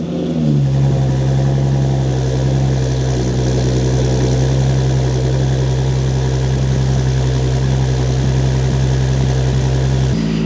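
Audi B8.5 S5 fitted with an AWE Touring exhaust on a cold start, a steady loud low idle drone held close and alone for about ten seconds.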